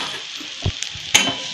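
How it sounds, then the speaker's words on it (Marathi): Alu vadi pieces are sautéed on onions in a pan, giving a soft steady sizzle with a few brief scraping stirs of a spatula against the pan, close and alone. "2-3 मिनिटं मी चांगली परतून घेते हळूवडी"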